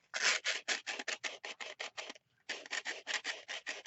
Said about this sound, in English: and just twist it in the sandpaper